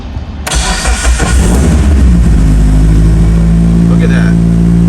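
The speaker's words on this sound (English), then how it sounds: "Perfect cold start. No hesitation, no fluctuation. On the first crank, nice hit." A Mitsubishi Evo RS with a full standalone ECU cold-starts on the first crank: a brief starter whir, then the engine catches loudly and settles into a strong, steady idle close by.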